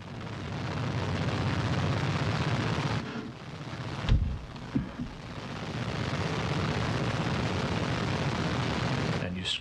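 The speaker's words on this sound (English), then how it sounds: "you clearly saw the soft landing engines firing a second or two before touchdown" Soyuz MS-04 spacecraft's soft landing engines fire a second or two before touchdown in south-central Kazakhstan: a brief, sharp burst cuts through a steady, loud roar of wind and rotor noise.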